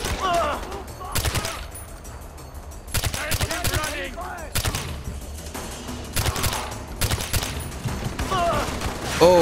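Bursts of video game gunfire in Far Cry 4, rapid volleys and single cracks stacked close together at fairly loud level, with a few short stretches of quieter background between them.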